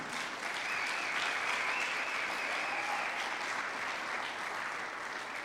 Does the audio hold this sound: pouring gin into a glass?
no